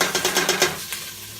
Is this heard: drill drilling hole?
no